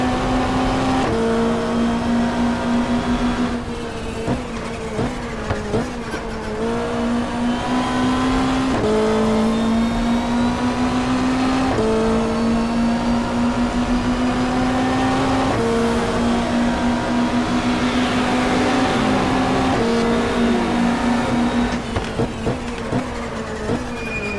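Hyundai touring car in the GTR2 racing game, a 1995 Australian Super Touring round at Symmons Plains, its engine droning loud and steady with repeated rises and falls as it shifts through gears, no talk over it.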